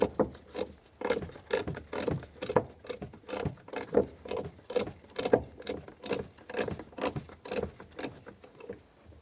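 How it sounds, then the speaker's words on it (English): A red knob on a 1997-2003 Ford F-150 jack is turned by hand to expand and tighten the jack, giving close, steady rhythmic rasping and ratcheting clicks in quick repeated bursts with no talk. "Make sure you turn this red knob clockwise. That will expand the jack and tighten it up"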